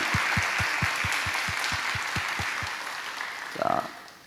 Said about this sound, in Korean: 우리 이분들 박수로 축복합니다